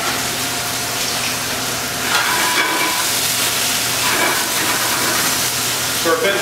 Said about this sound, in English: So our vegetables are starting to cook a little bit